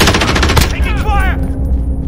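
Loud, rapid automatic gunfire in Call of Duty: Modern Warfare bursts close by, then gives way to game sounds and a brief voice speaking over the battle.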